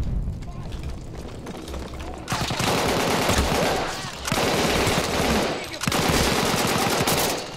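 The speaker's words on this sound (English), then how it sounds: "I got this beast SMG. It's time to go gun blazing now" An SMG fires in long, loud automatic bursts in Battlefield 1, with three sustained volleys separated by short pauses, close and dominant over the battle noise.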